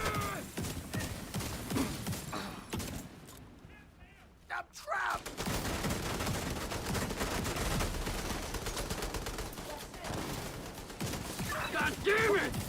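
Gunfire rattles through a firefight in The Division, dense bursts and shots mixed with game effects and a brief lull, while someone talks over much of it.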